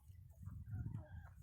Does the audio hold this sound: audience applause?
no